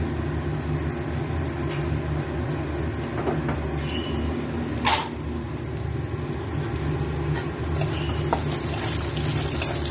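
Potatoes fry in hot oil with cumin, ginger and green chilli, giving a dense, steady sizzle that runs loud and close throughout, with a few faint clinks and no voices.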